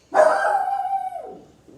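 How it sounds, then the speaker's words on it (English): A single drawn-out bark from a dog indoors, close and fairly loud, tailing off into a whine-like fade, heard alone. "Who let a dog in here?"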